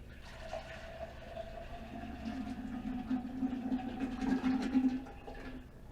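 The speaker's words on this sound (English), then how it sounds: "Now I will apply the slosh into the column." Slosh poured from a container into a lab column, a continuous gurgling, splashing liquid pour that builds over several seconds and then tapers off, with no talking.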